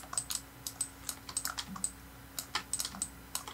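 Computer keyboard keys clatter in quick irregular bursts of clicks and taps, close and clear, while keys are held and pressed during 3D modelling work, with no voices over them.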